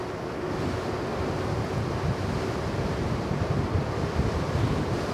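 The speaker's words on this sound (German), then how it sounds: "Ein starker Wind." A steady, strong wind rushes past outdoors on a hillside walk in the Allgäu, a constant broadband roar with gusty low buffeting, no voices.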